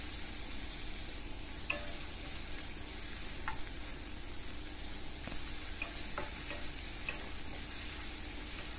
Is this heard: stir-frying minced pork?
yes